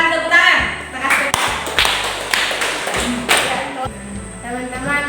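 Classroom audience clapping after a student group's presentation on compost fertilizer, scattered uneven claps close by, with voices talking over them.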